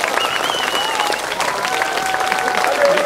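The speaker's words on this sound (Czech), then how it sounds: "Tady normálně tleskají." An audience at a theatre performance claps steadily and loudly for a few seconds, a dense crowd sound with voices calling over the applause.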